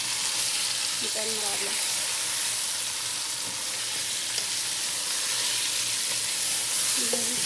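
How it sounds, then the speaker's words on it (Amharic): Food fries and sizzles in oil with cumin and salt while being stirred, giving a continuous close hiss broken by scraping stirs. A short spoken phrase cuts in briefly. "በዘይት በደንብ ተጠበስን።"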